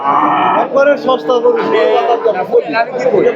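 A heifer lets out a loud, drawn-out moo close by at a cattle market, with people chattering in the background.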